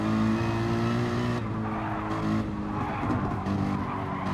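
Race cars lapping the Nürburgring GP in a sim racing game drone with steady, loud engine tones, one car slipstreaming another, with a brief tire squeal and the pitch shifting as they brake and accelerate.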